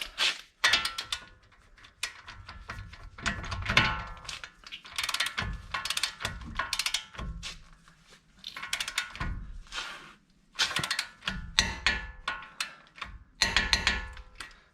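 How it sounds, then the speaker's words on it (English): Ratcheting clicks and metallic mechanism sounds from tools tightening the TMR 2.5 ton steering linkage on a Jeep JK, coming in repeated close bursts with short pauses between them. "we'll go to the torque wrench"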